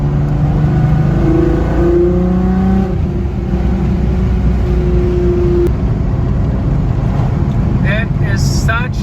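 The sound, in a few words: car engine revving, MK2 Golf or MK4 Jetta 1.8t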